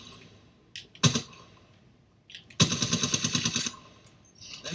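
Automatic gunfire in a shooter game: a short burst, a pause, then a longer rapid rattling volley of a dozen or so shots, fairly close and sharp over quiet background noise.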